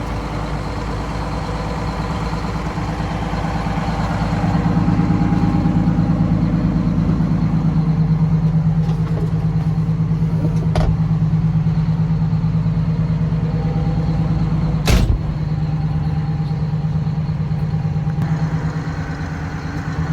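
A Ford L9000 truck engine idles steadily and close by, a low continuous rumble that swells slightly midway, with a brief sharp click or pop near the end and no talking.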